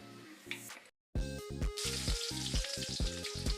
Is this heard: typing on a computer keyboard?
no